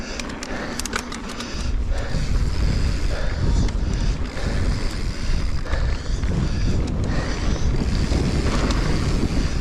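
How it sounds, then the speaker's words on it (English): Wind buffets the microphone on a mountain bike trail in Hurricane, Utah, with heavy, continuous low rumbling, gusting harder after the first couple of seconds and staying loud throughout. "Yeah, it's also a little windy today."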